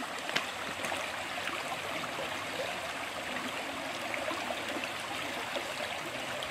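A clear freshwater stream in the Philippines flows steadily, a broad continuous rushing and trickling wash that stays close and even throughout, with no voices.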